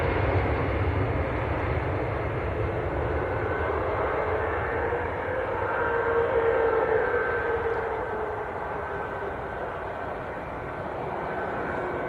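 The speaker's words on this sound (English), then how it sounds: "That is EasyJet to Bilbao" An EasyJet airliner bound for Bilbao at Manchester Airport, a broad steady jet engine roar with a faint rising whine, distant and continuous for twelve seconds with no voices.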